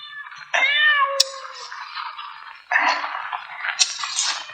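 A cat meows in two separate drawn-out calls, fairly close, with quiet pauses around them.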